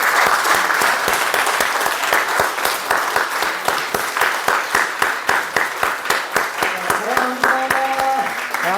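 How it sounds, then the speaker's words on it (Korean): A church congregation applauds to welcome a new member at a Sunday service, sustained dense clapping from many hands throughout, with a few voices and a brief musical tone rising near the end. "우리 새 친구님을 환영하면서 우리 다 박수 한번 주세요"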